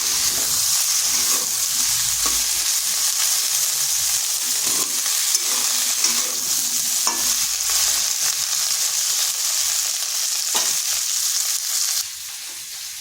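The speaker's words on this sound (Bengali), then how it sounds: "ওদিকে ঢেঁড়সটা ভাজা হচ্ছে" Steady, dense sizzling of okra frying in a pan, continuous and fairly loud with occasional soft stirring clicks, no voices.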